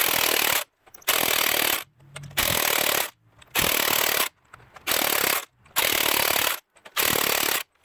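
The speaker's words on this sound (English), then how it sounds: "Now that I got them all in, go ahead and finish tightening them." A pneumatic impact wrench tightens wheel lug nuts on a 1994-2002 Dodge Ram, firing in six loud, rattling bursts of roughly half a second each, separated by brief pauses.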